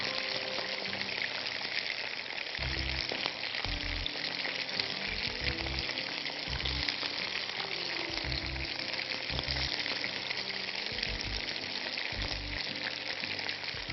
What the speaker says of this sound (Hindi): और लास्ट बैच ऑफ चिकन जो है उसको भी हम फ्राई कर देते हैं।